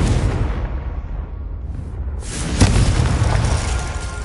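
A Confringo fire spell in Hogwarts Legacy goes off as a deep rumbling explosion, loud and booming, with a sharper burst near the middle and a rolling roar that carries on to the end.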